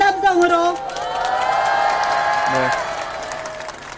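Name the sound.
crowd cheering and shouting at a protest rally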